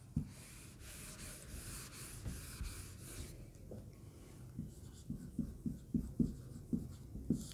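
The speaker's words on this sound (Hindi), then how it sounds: "लिख देती हूं मैं एक बार।" Hand writing on paper, faint scratchy pen strokes that turn into a run of short rhythmic taps and strokes toward the end, close and quiet, with no talk.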